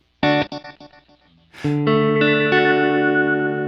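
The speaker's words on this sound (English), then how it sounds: "let's listen to the synth pulsar" Synth pulsar processing from a Kurzweil KSP8 effects unit: a choppy stuttering run of pulsing notes, a brief noisy swish, then a loud, sustained, distorted, chorus-like tone ringing out to the end.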